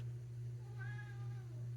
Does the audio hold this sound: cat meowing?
yes